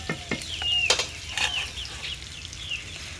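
Cumin seeds dropped into a hot pan sizzle and fry while a utensil stirs and scrapes in short strokes, fairly close and steady, with no talk over it.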